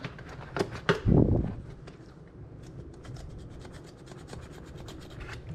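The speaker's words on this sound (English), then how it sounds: "you could get a dull knife or something like this and just scrape them off" A dull knife scrapes scales off a ribbon fish (belt fish) in steady rasping strokes, close and moderately loud, with a heavier rub near the start and a softer continuous scratching afterward.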